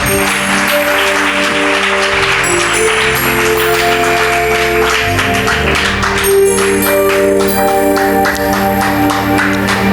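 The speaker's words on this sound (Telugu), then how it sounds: "గట్టిగా చప్పట్లు కొడదాం అందరం." A congregation claps loudly and steadily at a Christian prayer gathering's grand finale, the dense clapping running throughout over sustained music.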